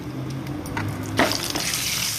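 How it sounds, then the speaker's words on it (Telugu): Chopped garlic hits hot oil for a tomato pickle, giving a steady close sizzle with a louder hiss burst midway and light stirring clinks, no voices. "ఆయిల్ బాగా హీట్ అయిన తర్వాత కూడా ఇగో వెల్లుల్లి కూడా వేసేద్దాము."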